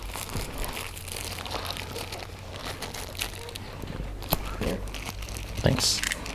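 Plastic wrapper on a Kickstarter board game box being opened, with continuous crinkling and tearing rustles throughout and a few sharper crackles, close up, while someone talks.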